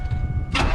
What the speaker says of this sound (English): Alright, so we know it cranks.